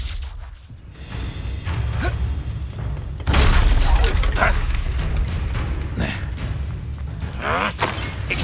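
Expelliarmus spell cast in the Hogwarts Legacy video game during a curse fight: a loud magical burst with whooshing swish and heavy thump, sustained rumbling impacts over dense game sound, with some voice underneath.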